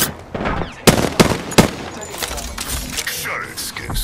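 Gunfire in Apex Legends, with several sharp shots and short bursts in a busy firefight, mixed with game voice lines and background effects.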